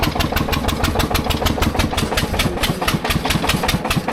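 A Massey Ferguson tractor engine runs steadily on a farm in Tibet, close by, with a rough, throbbing idle that holds an even pulse throughout and no voices over it.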